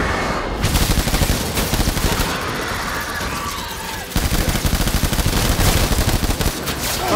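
Enemies in Death Stranding fire guns in dense, loud bursts of rapid automatic gunfire, rattling almost continuously with a brief lull before resuming.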